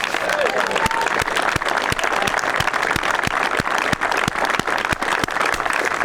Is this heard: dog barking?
no